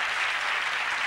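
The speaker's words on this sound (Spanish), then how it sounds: "yo pido también un aplauso para mi pueblo" Audience applause at a tribute event for the singer's hometown of Lora del Río, a dense, even wash of many hands clapping, steady and fairly loud throughout the brief moment.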